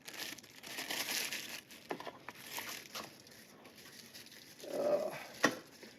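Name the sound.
unwrapping an item from crinkling paper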